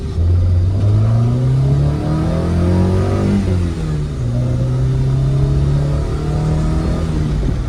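A TRD Toyota Celica engine runs steadily right after its first start-up, a loud, continuous close-up drone with rising and falling revs throughout.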